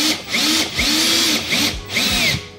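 A power drill driving a fastener into a 2x4, its motor whining in four surging bursts that drop in pitch as it bogs down under load, loud and close with brief pauses between.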